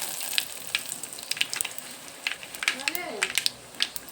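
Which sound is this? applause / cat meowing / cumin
cumin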